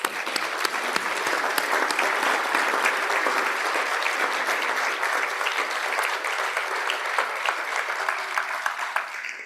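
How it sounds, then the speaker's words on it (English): Large audience giving a steady round of applause, dense continuous clapping heard alone at moderate level throughout. "So a big round of applause."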